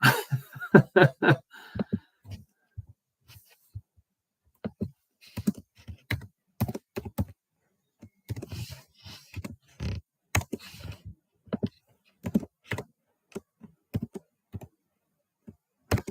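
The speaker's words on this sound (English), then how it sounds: "I'm just typing out a question for any of those you getting bored." Fast, irregular bursts of typing on a computer keyboard during a live Q&A stream, with clustered key clicks and short pauses between runs, close and fairly clear with no talking over it.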